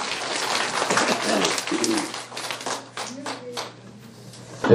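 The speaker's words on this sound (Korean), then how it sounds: "자, 박수 한번 치시기 바랍니다" A burst of audience clapping at a theology seminar lecture that tapers off, with a few voices and murmurs mixed in.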